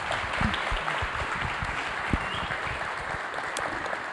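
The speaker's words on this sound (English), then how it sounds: "Another round of applause for our speakers." An audience at a panel discussion gives the speakers a round of applause, steady, dense clapping holding at an even level throughout without talking over it.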